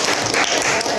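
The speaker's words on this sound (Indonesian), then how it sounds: "Oke, berikan tepukan kepada" A burst of crowd applause, dense and steady, filling the whole moment.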